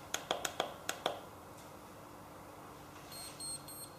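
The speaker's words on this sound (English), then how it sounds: "we hear the beeps initially telling me that we have made contact and we're ready to begin" A galvanic facial device gives a quick series of short, sharp beeps near the start on making skin contact, then a faint higher tone later against a quiet background.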